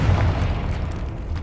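A Confringo fire blast in the game Hogwarts Legacy gives a deep, loud boom that rolls into a steady, rumbling roar for a moment.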